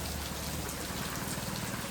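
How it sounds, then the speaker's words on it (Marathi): Heavy rain pours down in a dense, steady hiss of drops drumming on surfaces, close and unbroken throughout the short stretch, with no voices. "खूप भारी असा पाऊस पण चालू झालेला आहे"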